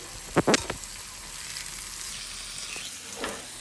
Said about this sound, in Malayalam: അതുപോലെ തിരിച്ചും മറിച്ചിട്ടിട്ട് നമുക്ക് നല്ലവണ്ണം പൊരിച്ചെടുക്കാം